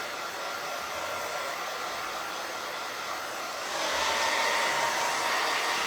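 Hair dryer blowing steadily to dry paint on a wooden piece, a loud continuous whooshing roar held close by, rising in intensity partway through, with no talking.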